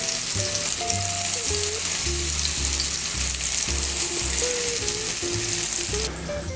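Vegetarian meatballs sizzle and fry in a pan, a loud continuous crackle close to the mic, with a melodic tone running faintly beneath and no talking.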